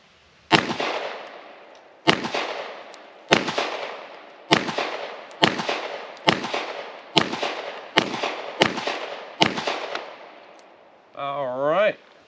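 A TISAS 1911 pistol in 9mm fires steel-cased ammo at a range: nine sharp, loud shots spaced about a second apart, each with a short echoing tail. A brief tonal sound follows after the last shot.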